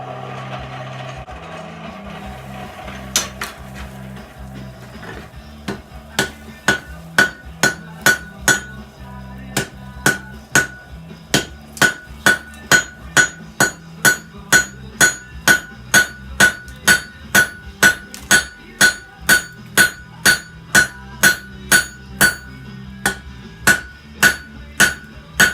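Steel forged on an anvil for a pattern welded chef knife, dozens of loud, ringing hammer blows falling in a steady, even rhythm after a few scattered strikes at the start.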